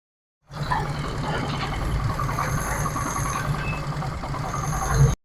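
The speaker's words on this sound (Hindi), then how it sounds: "बाइक का इंजन बिल्कुल तैयार है और इसको हम अभी स्टार्ट करके इसको चेक" A repaired motorcycle engine with a freshly rebuilt third gear runs at a steady idle right after starting, a continuous close mechanical rumble with a low throbbing beat and a slight rise near the end.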